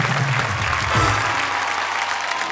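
An audience in a hall at a Hindi poetry event breaks into applause, dense steady clapping that fills the room at close range and holds throughout.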